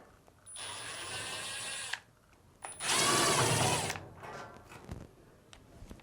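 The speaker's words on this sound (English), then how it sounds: "Using a Phillips screwdriver, we can now remove these two Phillips screws to remove the front panel." A Phillips screwdriver backs out screws from the front panel of a Fisher & Paykel top-load dryer, giving two bursts of close, steady whirring from a powered driver separated by a short pause, then a few light clicks and handling noises.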